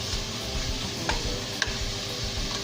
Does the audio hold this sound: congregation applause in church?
no